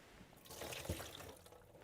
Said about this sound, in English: I'm going to drain them.